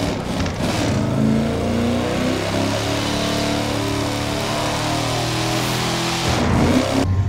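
An old, customized Ford Mustang in The Crew 2 racing game revs with a loud, steady engine drone whose pitch climbs and dips, close and continuous with no talking.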